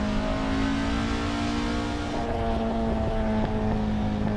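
A Honda Acty kei truck engine drones steadily while climbing Pikes Peak in Assetto Corsa, a constant close buzzing tone that rises slightly in pitch partway through, with wind noise beneath.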